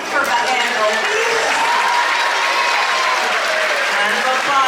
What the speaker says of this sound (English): Round of applause for that tiny little thief.